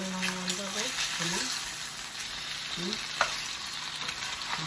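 Ham and cheese tortas fry in oil left over from cooking onion, producing a steady, close sizzle and crackle with a few scraping stirs. A voice speaks briefly over the frying.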